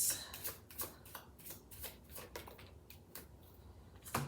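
Oracle cards shuffled by hand in a series of quick, papery riffling bursts, each a few tenths of a second apart, with a final sharper flutter at the end; close and fairly quiet, no talking.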